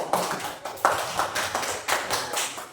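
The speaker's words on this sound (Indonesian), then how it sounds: "Tepuk tangan dulu." A classroom of children claps hands together in quick, uneven bursts, a lively round of applause heard close up with no talking.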